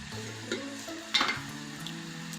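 Okra and onion fry quietly in a pan while a spoon scrapes and stirs in a few short, close strokes, ending with a sharp clink.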